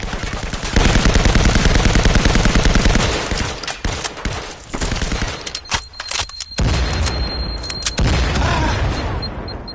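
Heavy gunfire in Firewall, a video game, with dense rapid automatic bursts and booming blasts. It is loud and close, with brief gaps and a sharp explosive crack partway through.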